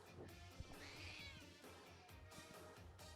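A cat yowls and meows insistently nearby, a drawn-out, wavering cry that rises and falls, fairly faint under a background of clicks and room noise.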